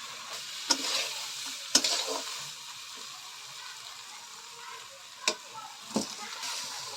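Crab curry sizzles steadily while it is sautéed in a pan, a continuous hiss of frying broken by several sharp clinks and scrapes of a spoon stirring against the metal.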